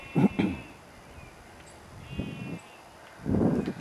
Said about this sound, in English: More of the sheep are making more noise.